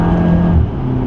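A McLaren 650S engine drones loud and close as it drives the Nürburgring GP track in heavy rain, a steady, dense roar across the whole short stretch.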